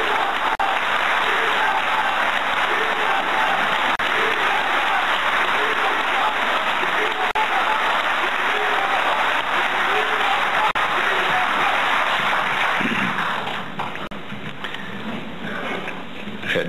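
Large crowd at a Korean presidential candidate's campaign rally gives sustained loud applause with cheering, steady for about thirteen seconds before thinning and fading near the end.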